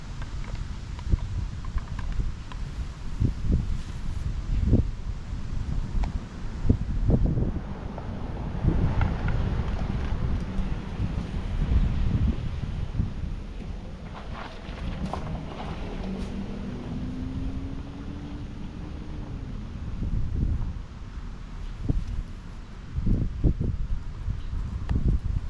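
Wind blowing outdoors at an open practice spot, a continuous rushing buffet across the microphone with gusty swells and a few scattered knocks and rustles.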